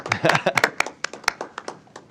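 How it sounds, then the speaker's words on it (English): Sharp, uneven hand claps from a small group at a county commissioners' meeting, close by, thinning out and fading over a couple of seconds. "Just give them a round of applause."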